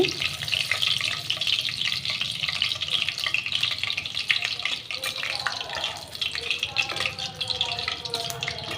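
Torn bay leaves frying in hot oil in a wok for a pointed gourd dish, crackling sizzle with some stirring and scraping, heard at moderate loudness with a voice talking over it.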